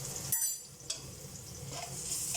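Garlic sizzling in a hot pan for sweet garlic chicken, a steady close frying hiss with a couple of brief clinks of a utensil against the pan.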